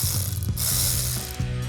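A hand ratchet clicks rapidly and loudly up close as it tightens a bolt on the engine of a 1970 Dodge Challenger R/T with a 440 Six Pack, with no voices.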